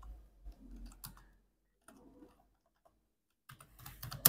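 Fast, light keystrokes on a computer keyboard come in short bursts separated by brief pauses, quiet and close, with no voices.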